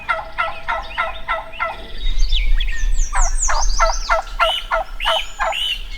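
A live wild turkey hen yelps in a series of rhythmic notes, some clipped into half yelps, outdoors at moderate distance. A second run of yelps follows a brief pause, with no talking over them.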